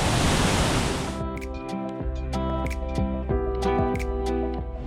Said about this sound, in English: So the waterfall, of course, very naturally beautiful.